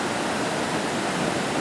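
Steady, loud broadband rush of Roaring Brook flowing right beside a trailhead, constant and unbroken, with no voices over it.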